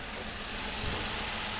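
A 2018 Ford Taurus police AWD sedan idling after a jump start, a steady, close mid-pitched engine hum with no talk.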